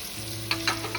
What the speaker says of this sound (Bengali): এবারে আমি এর মধ্যেই দিয়ে দিচ্ছি এই যে চিকেনগুলো